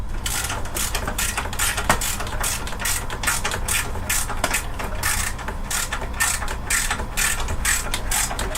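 A ratchet wrench clicks in quick, regular bursts while someone works on a VW VR6 engine being pulled from a car. The metallic ratcheting sounds close and fairly loud and continues without pause, with no talking.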